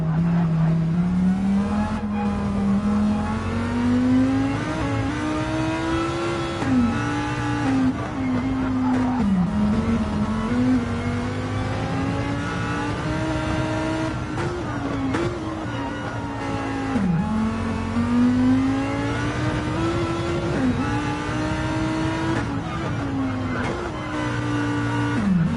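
A Lamborghini Huracan GT3 race car in a racing video game at Fuji screams loudly and continuously, its engine pitch climbing and dropping sharply through gear changes and braking, with faint tire squeal and no talking.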